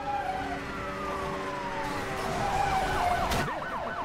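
A police car siren wails in the racing game Need for Speed: Hot Pursuit, rising and falling repeatedly over a constant engine drone, with no talking.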